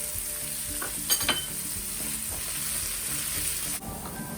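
Onions with salt and curry leaves sauté in a pan with a steady, soft sizzle, broken by a few brief stirring scrapes and clinks.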